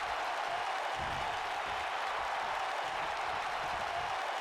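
Wrestling show crowd cheering and applauding, a steady broadband roar of clapping and voices that holds evenly throughout, fairly distant and without any distinct calls.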